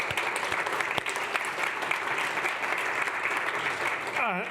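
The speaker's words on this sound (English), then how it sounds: "Let's just have a round of applause for the 3 speakers so far" Steady, full applause from a conference audience at a climate-resilience panel fills the room for several seconds at an even level, a dense wash of clapping heard from a moderate distance.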